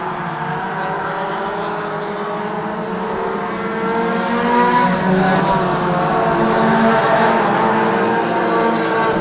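Street stock race cars circle a dirt oval, their engines blending into a loud, continuous droning roar of layered revs that swells slightly as the pack draws nearer, with no talk.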